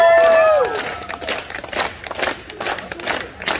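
A crowd in York clapping together on cue, a shouted cry at the start followed by bursts of ragged group claps and cheering.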